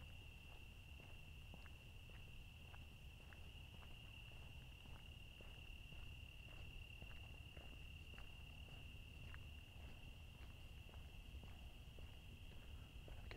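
Crickets trill steadily at night in rocky country, a constant high chirping carried over a low background of frog calls and faint ticks, with no voices.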